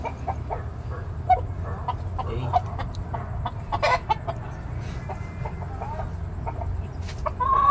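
Two tethered roosters cluck and make short calls across several seconds, fairly near over a low outdoor background hum, and a louder squawk comes near the end.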